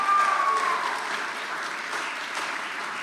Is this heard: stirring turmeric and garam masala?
no